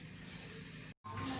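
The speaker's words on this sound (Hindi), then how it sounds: "इसमें पानी ऐड कर दिया है मैंने" Water from a jug is poured into a pot of mutton bone curry with garlic-ginger paste and turmeric, a steady close splashing pour with a brief break.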